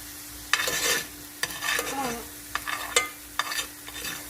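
Steak sizzling in a pan as it is basted, with several bursts of spattering and scraping spoon strokes over a low steady hum.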